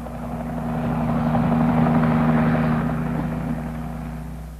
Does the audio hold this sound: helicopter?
yes